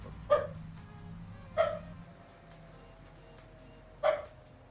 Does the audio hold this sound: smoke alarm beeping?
no